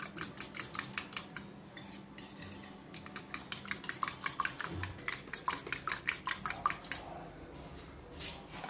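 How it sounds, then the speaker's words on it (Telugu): Eggs whisked with salt and turmeric, a utensil clinking rapidly and rhythmically against the bowl in quick, steady beats close by, with a short pause partway through. "ఒక పావు టీ స్పూన్ పసుపు కూడా వేసుకొని దీన్ని బాగా ఇలా బీట్ చేసుకుంటూ ఉప్పు పసుపు కలిసేలాగా మొత్తం కలుపుకోవాలి"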